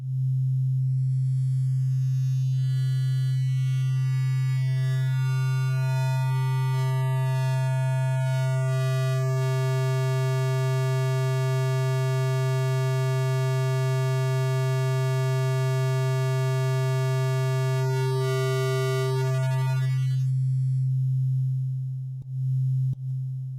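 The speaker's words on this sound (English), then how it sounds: "It's called crush, and it's a sine wave through a bit crusher" A sustained, buzzy synthesized sine wave through a bit crusher on a Teenage Engineering OP-XY, with gritty digital harmonics that thin out over time, holding steady for about twenty seconds before cutting off.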